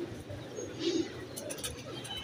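Soft cooing of high-flying pigeons in a low, murmuring pulse, set against steady outdoor background noise with a few faint higher chirps.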